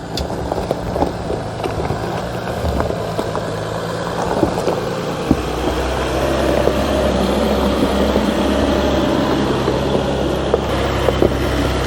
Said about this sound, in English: So here we are on road with the Jeep Gladiator Rubicon.